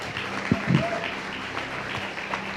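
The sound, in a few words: congregation applause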